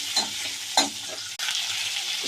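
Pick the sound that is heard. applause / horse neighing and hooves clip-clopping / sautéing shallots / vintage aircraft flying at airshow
sautéing shallots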